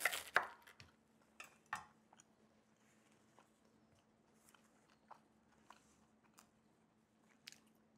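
Crunchy anchovy and garlic toast is bitten with a sharp crunch at the start, then chewed quietly in a series of soft, close crackles and squishes with faint gaps between.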